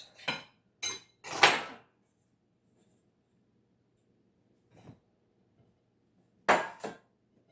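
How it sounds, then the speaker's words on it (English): Strawberry cake being knocked and lifted out of its baking pan: a few sharp metallic taps and scrapes in quick succession, a pause with a faint knock, then one more clatter. "I'm getting ready to take it out the pan."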